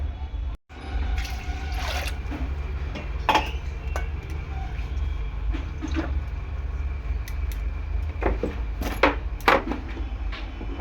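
Water being added to mung dal in a pot on a kitchen stove, a continuous trickling pour over low rumble, punctuated by scattered clinks and knocks of utensils.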